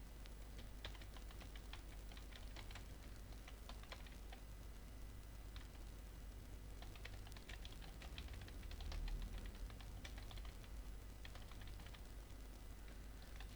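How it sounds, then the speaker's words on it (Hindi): Keys being pressed on a computer keyboard, including Tab and Enter, heard as faint scattered clicks and short bursts of typing over a quiet room hum. "फिर यहाँ पे टैब दबाएंगे, फिर इंटर कर देंगे"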